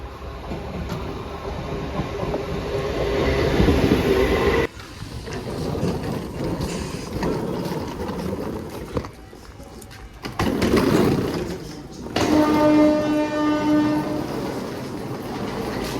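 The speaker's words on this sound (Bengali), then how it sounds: "তো ট্রেন ঢুকে পড়েছে অ্যাকচুয়ালি।" A local train pulling into a station, a loud rolling rumble with clattering wheels and a sustained horn blast near the end, plus a faint voice at times.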